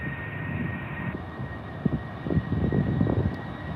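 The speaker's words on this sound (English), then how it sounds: "Does anyone know where that Etihad 777 is going?" An Etihad Boeing 777 at Heathrow gives a steady, moderately loud jet roar with wind buffeting the microphone, rising slightly toward the end, no voices.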